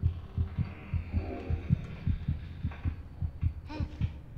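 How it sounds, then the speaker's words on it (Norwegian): A steady, muffled heartbeat thumps in the horror video game Among the Sleep, with evenly spaced low pulses over a soft hum and no talking. "Kommer det hjertebank igjen?"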